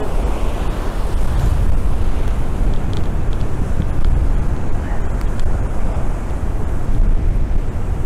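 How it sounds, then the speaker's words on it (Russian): A fierce storm wind roars across a Crimean shoreline as large waves surge and crash nearby, a loud, unbroken wash of surf and buffeting microphone wind throughout. "Да, плохо, что, конечно, ветер сумасшедший."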